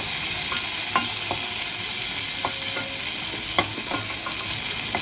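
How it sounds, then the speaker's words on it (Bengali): Pointed gourds (potol) frying in hot oil in a pan, a steady close sizzle broken by sharp scattered clicks of the utensil lifting them out, no talking. "এদিকে পটলগুলো কিন্তু খুব ভালো করে ভাজা হয়ে গেছে। এবার আমি পটলগুলোকে তুলে দিচ্ছি।"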